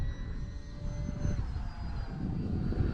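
An RC plane's electric motor runs outdoors in gusty wind, a thin steady whine over a low rumble of wind noise, with the pitch shifting slightly as it goes.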